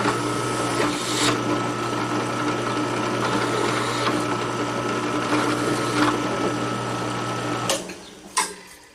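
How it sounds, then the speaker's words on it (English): Countersinking holes in a knife blade before heat treatment produces a steady, loud mechanical whir with a constant hum, running continuously near the mic before tapering off, with a couple of brief clanks at the end. "now we're just countersinking these holes, which is real important before heat treatment"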